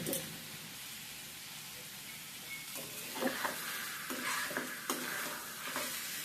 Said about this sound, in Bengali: এবারে নেড়ে চেড়ে আবারও আমি 4 থেকে 5 মিনিটের মতো ভেজে নেব।